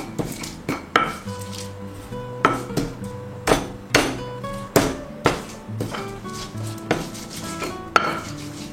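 Shallots, garlic, coriander, pepper, bird's eye chili, turmeric, galangal and ginger pounded together into a spice paste for pepes tofu, heard as a steady run of near, sharp thuds and knocks about two per second, with no talk.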